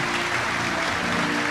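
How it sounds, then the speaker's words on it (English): A large audience at a Yu-Gi-Oh! World Championship 2012 finale applauds the two duelists, a steady, dense wash of clapping that holds evenly throughout. "Let's have a big applause for the two duelists."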